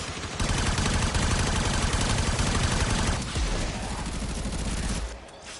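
Sustained rapid gunfire in the sci-fi shooter Warframe, a dense loud stream of shots that drops to a lighter rattle near the end, no talking over it.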